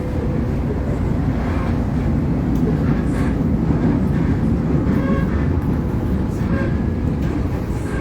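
Inside a passenger train in Manila, a loud, constant rumble of rolling wheels and carriage noise fills the clip evenly from start to finish.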